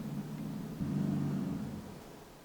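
A car engine runs at a garage across the street, heard as a distant, low, steady rumble that swells louder for a moment around the middle before easing back.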